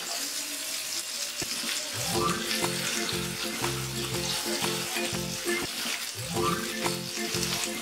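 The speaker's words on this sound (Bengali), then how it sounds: "এবার এর মধ্যে পোস্ত বাটাটা দিয়ে ভালোভাবে একটু মিডিয়াম ফ্লেমে কষিয়ে" Poppy seed paste with drumstick and potato frying in oil over a medium flame, a steady loud sizzle with rhythmic scraping and stirring strokes against the pan, no talking.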